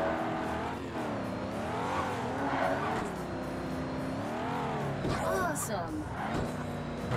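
Race cars in the Xbox game Ford Racing 3, including a Mustang GT: engines rising and falling in pitch through gear changes, with tyre squeal near the end, under continuous talk.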